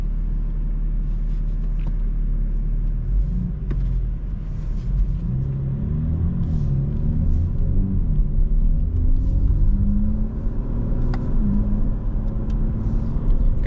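A 2025 BMW M4 Competition drives with its exhaust valves closed, giving a steady, subdued low engine rumble and road drone that rises and falls gently with throttle, close by and continuous, with no talking.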